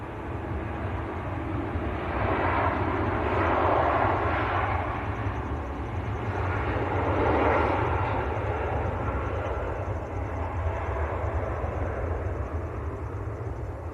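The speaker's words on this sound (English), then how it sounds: "there's a cute bizjet due in" A small business jet comes in to land at Manchester Airport, its engine noise a moderate, steady rumble that swells twice as it passes, heard alone without voices.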